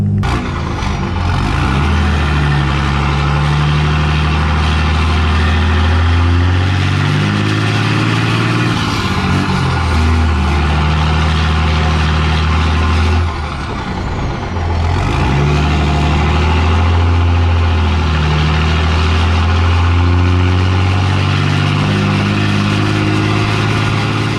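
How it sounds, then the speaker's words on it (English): Loud, continuous rumble of a 5.9 Cummins diesel truck with a 5-inch stainless straight pipe exhaust, deep and raspy, rising and falling as it revs and cruises, filling the whole stretch with no talking. "give you guys a chance to hear what the truck sounds like."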